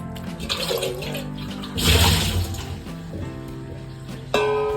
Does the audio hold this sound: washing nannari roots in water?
yes